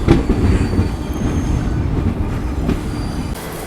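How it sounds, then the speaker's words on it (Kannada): The Murudeshwar Express pulls into Mangalore Central station with a steady loud rumble of rolling carriages, wheel squeal and clatter on the rails throughout, no voices. "ಮುರುಡೇಶ್ವರ ಎಕ್ಸ್ಪ್ರೆಸ್ ಈಗ ಬಂದ ಎಂಟ್ರಿ ಐತ್ರಿ ಮಂಗಳೂರು ಸೆಂಟ್ರಲ್ ರೈಲ್ವೆ ಸ್ಟೇಷನ್ಗೆ"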